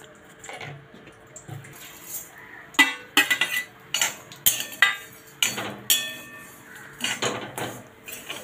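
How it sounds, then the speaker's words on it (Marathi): A metal spoon scrapes and clinks against a pan in quick irregular strokes as vermicelli is stirred and sautéed in ghee, close and fairly crisp. "आणि 5 मिनिटं जरा परतून घेऊया तुपामध्ये"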